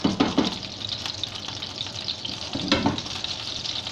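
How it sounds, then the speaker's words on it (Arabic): A piece of beef eye of round sears in a hot pan, giving a steady close sizzle with occasional sharper crackles and pops throughout. "انا حبيت اديله تشويحه كده عشان هحتاج الصوص اللي هينزل منه ده"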